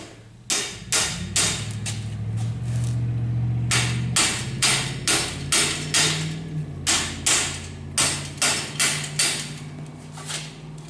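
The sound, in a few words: hammer tapping metal chain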